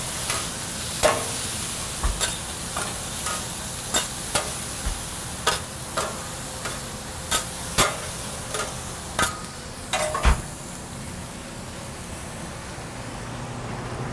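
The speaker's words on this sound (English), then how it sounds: "Flash fry the tofu for about 2 or 3 minutes. Stir up these veggies a little bit." Tofu flash frying and vegetables stir-fried in a pan, a constant sizzle broken by a steady series of sharp utensil scrapes and clacks, close and busy with no voices.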